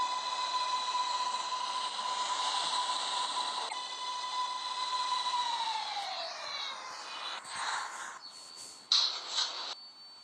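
A simulated NYCT R188 subway car on the 7 line pulls into Northern Boulevard station in the Hmmsim 2 game, its steady motor whine sliding downward as it slows, followed by squealing brakes and hissing near the stop.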